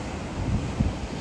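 Wind buffeting a microphone at the seaside near Rechitsa, Belarus, with a low rumble of waves surging in bursts; no one speaks.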